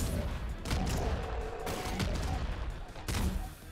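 Grenades explode in the video game Nuclear Throne, a dense, loud barrage of blasts and crackling bursts that continues without letup, with a few sharper hits standing out.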